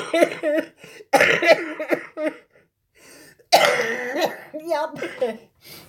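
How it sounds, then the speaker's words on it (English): Several coughs and throat-clearing bursts mixed with speech-like vocal sounds, loud and close, with short pauses between bursts. "I'm going to get tickled and I'll probably start coughing"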